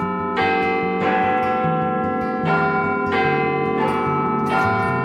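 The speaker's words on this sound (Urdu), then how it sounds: "لندن کے بگ بین پر گھنٹی بجے گی" A large church-style bell, Big Ben's in London, tolls loud and close in slow repeated strokes about a second apart, each ringing out and overlapping the last in a sustained wash of tone with no voices.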